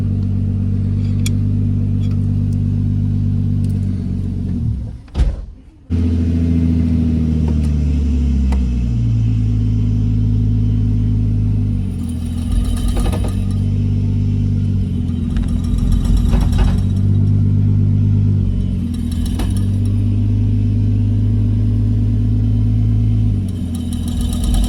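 A Nissan R34 Skyline converted to a manual gearbox runs loud and close in gear, its engine droning steadily with a brief dip near the start, then rising and falling revs, with no talking.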